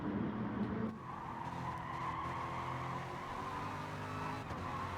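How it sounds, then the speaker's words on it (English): Corvette GT race car tyres screeching for grip in a sim racing game at Catalunya: a loud, sustained squeal over steady engine drone, continuous for the full stretch with no talk. "You can hear those tyres screeching, searching for grip."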